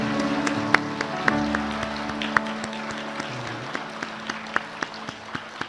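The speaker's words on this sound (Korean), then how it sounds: "큰 박수로 축하하겠습니다" A church congregation applauding during a service, a dense wash of clapping from a crowd in a reverberant hall, with sharper single claps standing out and a sustained tone underneath.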